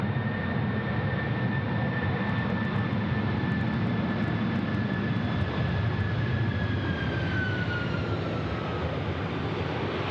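A Qantas jet airliner roars down the runway at Sydney Airport, a dense continuous engine rumble with a steady high whine slowly sliding downward, heard from a distance without a break.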